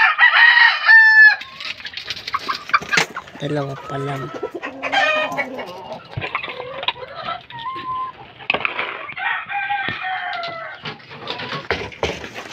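Gamecock rooster crows loudly at the start, then repeated clucking and calls from hens and fowl follow throughout, with someone speaking briefly among them.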